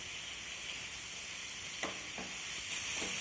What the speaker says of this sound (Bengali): এখন সব কিছু খুব সুন্দরভাবে কষিয়ে নিতে হবে।